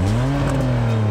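Rally car prepared for a desert challenge, exhaust cut open ahead of the pre-muffler, revving with a loud, raspy, close engine roar that sweeps slightly in pitch and holds steady throughout.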